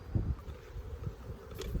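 Honeybees hum faintly and continuously at a hive, a soft low buzz with no other sounds.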